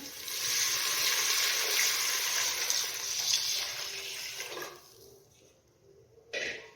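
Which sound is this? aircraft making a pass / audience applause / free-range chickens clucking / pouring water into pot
pouring water into pot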